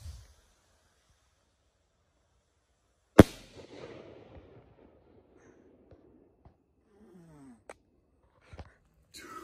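An E-class motor model rocket launching at night, heard as one sharp loud burst followed by a fading, crackling rush and rumble, with faint scattered sounds afterward.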